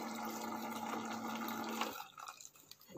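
Hot water running over abalone as it is washed before soup-making, a steady close flow with a low hum that cuts off near the end, leaving softer trickles.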